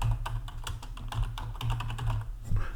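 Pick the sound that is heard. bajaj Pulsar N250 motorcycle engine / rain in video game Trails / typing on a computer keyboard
typing on a computer keyboard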